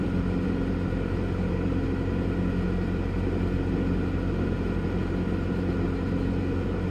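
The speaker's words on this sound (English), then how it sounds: "The motor hum you hear in the background is either A, my reefer, or B, the reefer in the truck next to us" Steady low motor hum from a truck refrigeration unit (reefer) at a truck stop in Hesperia, California, a continuous drone heard alone at moderate level throughout, with no talk.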